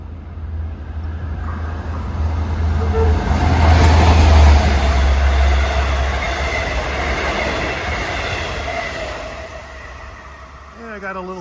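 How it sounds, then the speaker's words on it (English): A Long Island Rail Road commuter train rumbles closer at Forest Hills, growing louder and then easing off, with a steady mechanical hum and a horn-like tone under the noise. "Approaching eastbound on 2 at 4:33 is train 658 en route from Hunters Point Avenue to Port Jefferson."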